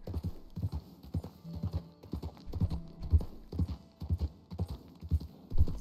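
Horse hooves clip-clop in a steady walking rhythm in the Red Dead Redemption 2 video game, heavy close thuds repeating about twice a second with no talk over them.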